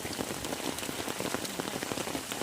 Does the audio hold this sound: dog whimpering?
no